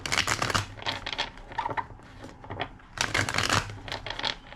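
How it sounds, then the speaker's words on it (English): A tarot card deck being shuffled up close, with dense riffling and crinkling bursts in two main passes separated by a brief lull, loud and without speech. "2 more shuffles."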